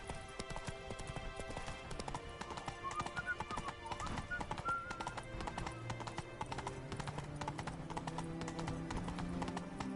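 Hooves of Geralt's horse Roach in The Witcher 3 clip-clop steadily and continuously throughout, close and clear under a busy game soundscape with a brief whinny.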